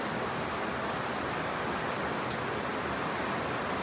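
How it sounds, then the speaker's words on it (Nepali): Heavy rain pouring down outside a house, a dense, steady hiss with no breaks, loud and even throughout. "बाहिर कस्तो ठुलो पानी पर्दैछ"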